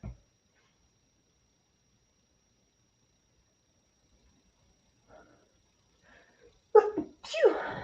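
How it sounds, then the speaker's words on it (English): Near silence with a few faint stirrings, then one sharp, close sneeze near the end, followed by a breathy exhale. "Gotta sneeze."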